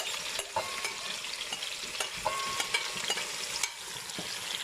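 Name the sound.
fish frying in very hot oil for brown stew fish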